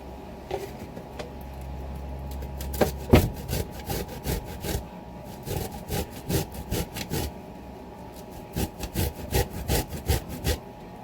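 A mango grated down to the seed for mango chutney, heard as close, rhythmic rasping strokes on a grater, repeated steadily with brief pauses; no talk.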